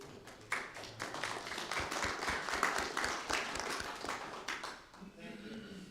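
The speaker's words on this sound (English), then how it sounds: "How about a round of applause?" A small group at a monthly meeting gives a round of applause, scattered close claps building then thinning out, with voices murmuring underneath.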